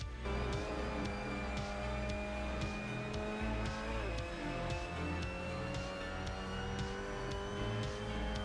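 A Mazda MX-5 Cup race car laps Road Atlanta in the Assetto Corsa racing game, its engine droning steadily with repeated upshifts and downshifts and rising and falling revs, loud and continuous with no talk.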